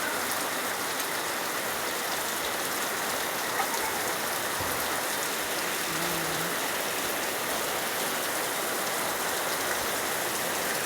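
Steady rain falls without a break, a dense, even hiss of drops on surfaces that holds at a constant moderate level throughout, with no voices over it.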